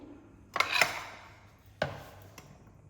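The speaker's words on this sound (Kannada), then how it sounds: "ಈಗ ನಾನು ಒಂದು ಆನಿಯನ್ ಚಾಪ್ ಮಾಡ್ಕೊಳ್ತಿದ್ದೆ" An onion chopped with a knife on a cutting board: a few sharp, close knocks spaced unevenly, the first a quick double hit, then a single chop and a lighter tap.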